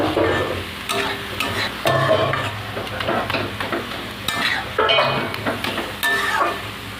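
Leafy greens frying and being stirred in a pan during home Bengali cooking, a steady close sizzle broken by repeated scraping stirs and light clinks of the spatula, with no voices.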